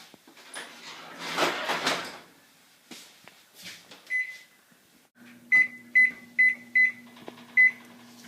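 An oven door clatters and a dish is set inside, then a timer is set with a run of five sharp electronic beeps over a low steady hum, close and clear.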